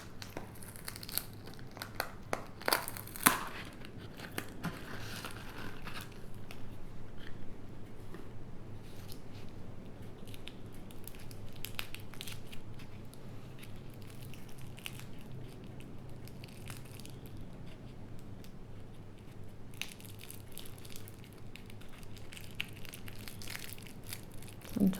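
Pandora charm packaging being unboxed: near, continuous crinkling, crumpling and tearing of paper and plastic, with a few sharper rustles early on and no talk.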